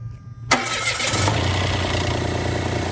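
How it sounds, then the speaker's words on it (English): Engine cranking and catching after a silent moment, then settling into a steady rough idle that runs on, close and loud. "Is this engine gonna go?"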